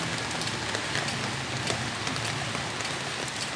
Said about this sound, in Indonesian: Hujannya semakin lama semakin deras.